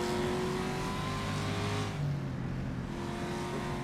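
Race car engine held at full throttle in the rFactor racing game on the 1967 Targa Florio road course, a loud sustained high-pitched drone that eases slightly partway through.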